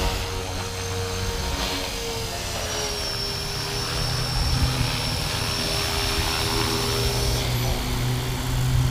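A Blade 330S RC model helicopter hovers and flies with a constant high whine and buzzing rotor, holding steady with slight pitch shifts throughout.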